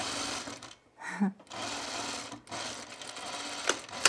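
Short bursts of a sewing machine stitching a top with tucks, separated by brief pauses, with a faint click or two and no clear speech.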